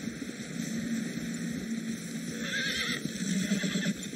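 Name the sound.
horses in the video game Red Dead Redemption II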